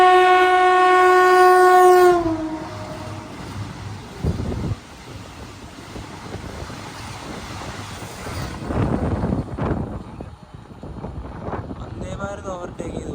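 A Vande Bharat Express sounds a long, loud horn, then rushes past an intercity train with a rumbling, clattering roar that swells and fades as it overtakes.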